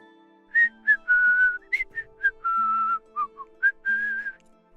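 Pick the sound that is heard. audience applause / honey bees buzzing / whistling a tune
whistling a tune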